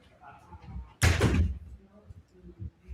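A room door being shut, a single solid thud and slam near and fairly loud, with soft voices before and after.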